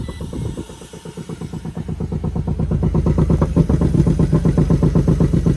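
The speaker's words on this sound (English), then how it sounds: "Oh, we got an exhaust leak" A monster truck engine idles roughly with an exhaust leak and a worn muffler, its loud steady throbbing pulse rising slightly and continuing close up without talk.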